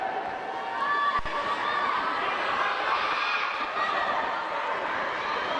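An audience at a Hong Kong women's U18 ice hockey gold medal game cheers in a steady, fairly loud crowd roar, with a single sharp knock near the start and the noise holding throughout.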